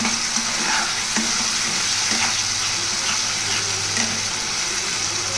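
Tomatoes fry and break down in a pan, giving a steady, close sizzle with light bubbling and a few soft stirring clicks over a low background hum.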